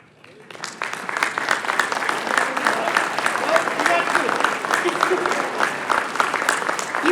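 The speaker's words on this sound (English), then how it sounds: "Let's give them a round of applause" An audience at a chamber of commerce awards banquet in Fairfield, Iowa breaks into applause, a dense, sustained roar of clapping that swells quickly and holds steady at full strength.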